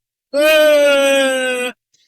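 A voice imitating a loud, drawn-out yawn, a single sustained groaning tone that slowly falls in pitch over about a second and a half, close and clear with silence on either side.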